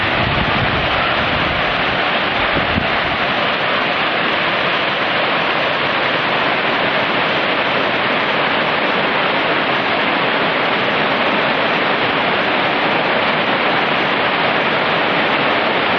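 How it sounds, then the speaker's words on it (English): A waterfall at Virginia Hawkins Falls on the Foothills Trail roars steadily, a dense, loud rush of falling water that stays constant from start to finish. "a very spectacular waterfall"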